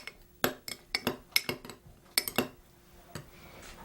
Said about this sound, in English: Now, I'm just going to stir these together.